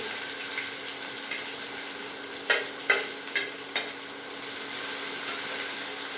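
Onion frying with cumin and curry leaves in a pan for a raw papaya stir-fry, a steady low sizzle with a few sharp scraping stirs of the spoon near the middle, no talk.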